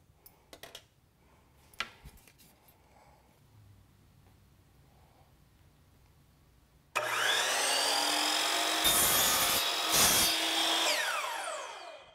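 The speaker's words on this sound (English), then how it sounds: "Now that we've established our angle, let's transfer it to the miter saw. Now let's lock it in and make our cut." A miter saw cuts crown molding: faint clicks and handling in a quiet room, then the blade spins up into a loud, close, sustained whine and cut lasting about five seconds before winding down.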